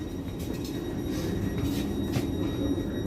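Interior of a train riding through London toward East Croydon, a steady low rumble of wheels and carriage with faint squeals and rattles, continuous and moderately quiet.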